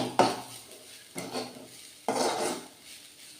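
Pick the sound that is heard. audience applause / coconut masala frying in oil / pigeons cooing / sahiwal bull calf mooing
coconut masala frying in oil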